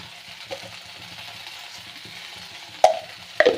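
Okra being sautéed in an open pan for a quick dry vegetable dish, giving a steady low sizzle with a few sharp clinks of a spoon against the pan near the end.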